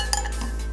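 A glass microwave turntable plate is lifted out of an opened, unplugged oven, giving a couple of brief light clinks against the interior over a steady low hum.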